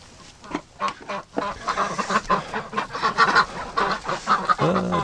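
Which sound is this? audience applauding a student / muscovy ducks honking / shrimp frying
muscovy ducks honking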